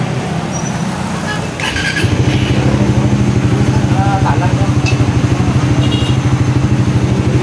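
Raider 150 Fi motorcycle engine, fitted with a Domino throttle and right-hand starter switch, cranks and fires after a brief quiet moment, then settles into a steady, close, loud idle with a rapid even pulse.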